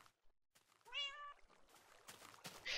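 A cat in the Survival Island video game meows once clearly amid quiet clicks and soft game noises, with no talking.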